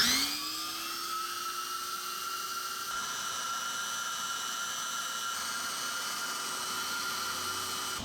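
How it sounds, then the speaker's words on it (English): A plastic welder used to repair scratched car vinyl switches on and spins up into a steady, high, whining hum that stays loud and unbroken. "I think that's a good time to try this welder here, okay? Let's go ahead and turn it on."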